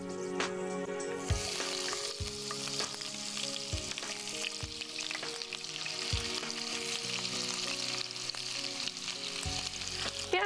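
Chopped onion and fenugreek seeds frying in hot oil, a steady loud sizzle throughout with occasional stirring knocks, close up, with faint background music.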